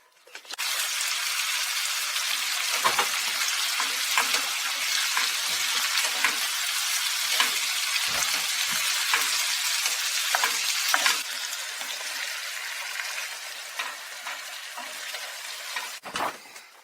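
Tuna strips sizzle steadily in a pan of sauce aboard a sailboat, a loud continuous frying hiss broken by occasional stirring scrapes, easing slightly toward the end.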